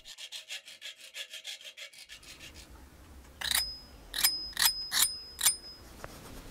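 Rhythmic rasping strokes of a hand file on metal while shaping a fishing lure, a fast steady series, then a few sharper scrapes with a faint ringing tone.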